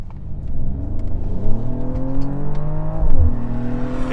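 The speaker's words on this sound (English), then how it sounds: "this 3-litre 6-cylinder makes a great noise" A Mercedes-AMG GLE 53 with a 3-litre six-cylinder engine accelerates in sport mode. The note is loud, close and rising, with a shift or surge near the end.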